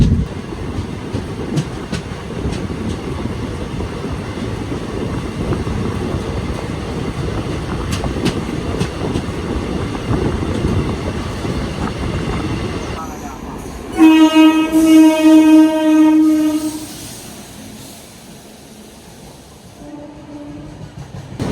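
The Palaruvi Express, a passenger train, rumbles steadily along the rails with clattering wheels, then sounds a loud sustained horn followed by a shorter blast as the noise fades.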